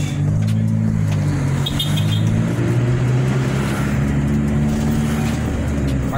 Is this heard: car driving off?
yes